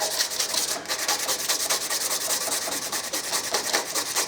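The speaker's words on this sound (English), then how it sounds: "All we've got to do now, get our sandpaper," Sandpaper rubs back and forth over a wooden throwing rib in quick, steady strokes, a close, dry scratching sound that continues without pause.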